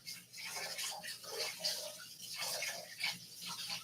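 A spoon is rinsed under a running tap while making a chocolate tart, giving a soft, uneven splashing water stream with gentle surges and a few clinks, fairly quiet and without speech.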